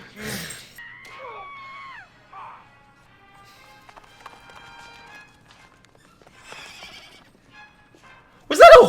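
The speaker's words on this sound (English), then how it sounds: "Did the spider just sound like a horse?" A giant spider in the 2002 film Eight Legged Freaks gives a horse-like whinnying screech near the start, sweeping up and down over faint background. A loud vocal outburst follows at the end.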